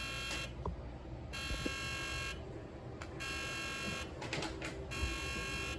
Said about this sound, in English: This was not what I expected when I set the alarm.